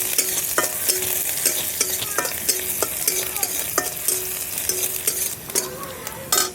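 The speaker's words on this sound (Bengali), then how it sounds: "এরপর দিয়ে দেবো কাঁচা লঙ্কা চেরা, এরপর পেঁয়াজ কুচি দিয়ে বেশ মশলাটা ভালো করে তৈরি করে নেব।" Slit green chilies and chopped onion fry in oil for a masala while a spatula scrapes and stirs the pan in a regular rhythm over a constant sizzle.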